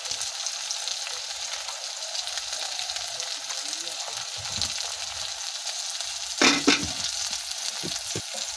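Spices with turmeric, chilli powder and salt frying in oil in a pan, a steady hiss of sizzling throughout with a brief louder scrape of stirring near the end.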